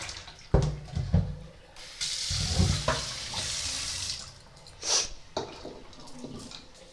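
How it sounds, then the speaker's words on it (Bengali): Taro root is rinsed under a running kitchen tap to clear off soil, water splashing and gushing unevenly with clatters of handling in the sink, close by, no talk. "একটু ধুয়ে নেবো, খুব বেশি করতে হবে না, একটু মাটিটা করে নিলেই হয়ে যাবে।"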